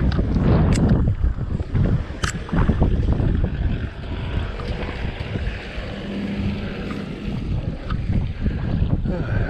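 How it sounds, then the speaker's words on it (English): Gusty wind buffets the microphone outdoors at a harbour, a steady roar with low rumbling bursts and occasional sharp knocks. "Windy air, we're going to get some more rain today."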